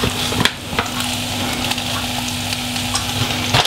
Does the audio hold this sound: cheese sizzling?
yes